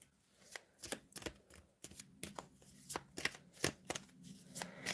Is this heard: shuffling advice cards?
yes